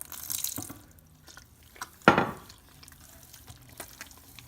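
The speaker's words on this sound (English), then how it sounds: "And I'm gonna add some more water." Water is poured into injera dough in a bowl, a short splash and trickle with a sharper burst midway, followed by faint drips and quiet handling sounds.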